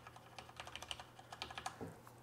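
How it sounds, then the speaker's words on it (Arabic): Typing on a Tt eSports MEKA G1 mechanical keyboard with Cherry MX Black switches: a quick, irregular run of close, fairly muted key clacks with no voices. "ملمس الكيبورد جميل جدا، صوته نسبيا هادي."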